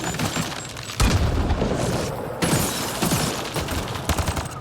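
Turret gunfire in the video game Mass Effect Andromeda: dense, loud bursts of rapid shots and booming impacts, with sharp onsets near the start and again midway, filling the whole stretch without talk.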